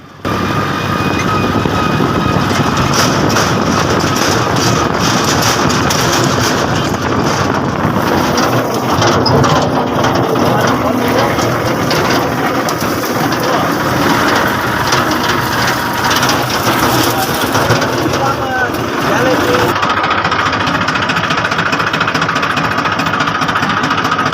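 Tractor engine running loud and close on a village farm trip, a continuous rumbling drone with mechanical rattle that holds steady throughout.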